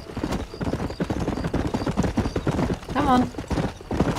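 Horse hooves clip-clop at a steady trot in Red Dead Redemption on Xbox, set in the town of Armadillo, with a brief whinny partway through and game characters talking over the hoofbeats.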